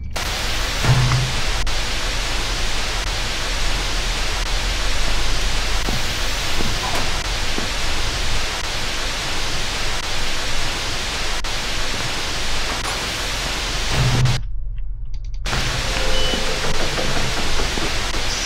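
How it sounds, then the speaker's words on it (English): Steady, dense hiss of static in the game SCP: Containment Breach fills the whole stretch at a constant level, broken only by a brief dropout near the end. "Static noise still playing for God knows what reason."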